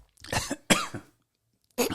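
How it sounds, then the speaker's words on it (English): Two bursts of harsh coughing close up, followed by a brief pause and a third cough starting again. "Making me cough."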